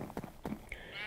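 A sheep in the Minecraft video game gives a couple of short bleats close by, followed by a brief higher game tone, with faint background sound around them.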